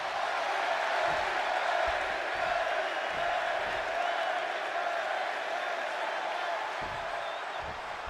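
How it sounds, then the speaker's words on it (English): Arena crowd in the video game WWE 2K26, a Chicago audience at a wrestling match, roaring in a steady dense wash with a few thumps underneath, loud and continuous throughout. "just listen to this crowd here in Chicago"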